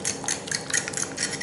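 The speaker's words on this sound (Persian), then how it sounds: "حالا این مواد رو با هم دیگه با چنگال هم میزنن تا یک دست بشه" Macaroni salad ingredients mixed with a fork in a bowl, a quick run of scraping, clinking stirs with sharp metallic ticks, close and fairly loud, no talking.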